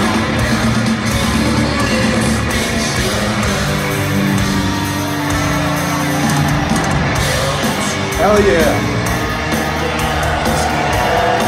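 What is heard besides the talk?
concert crowd cheering and yelling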